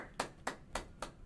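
Four slow, evenly spaced hand claps during a small podcast recording, faint and close with quiet gaps between them and no talking.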